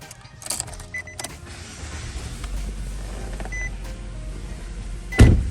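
A 2018 Nissan Sentra S is switched on from inside the cabin: a few clicks and chime beeps, then a low steady engine hum builds and holds, ending with a thump near the close.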